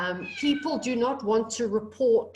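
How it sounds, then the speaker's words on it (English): A pet cat whines and meows faintly in the background while a person keeps talking over it through a remote call. "sorry, that's my cat, if you can hear it whining in the background"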